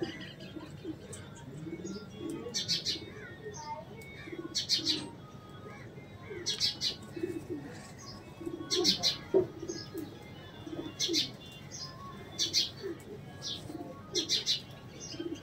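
Full-border pigeons, golden and kalanch varieties, coo repeatedly in soft, low rolling calls, with brief chirps and rustles between them, fairly close by.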